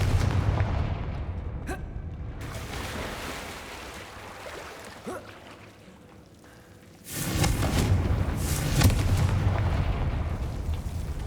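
A Confringo fire spell fired in Hogwarts Legacy bursts into a loud roaring blast partway through, rumbling and crackling over steady game ambience after a quieter, fading stretch; no voices.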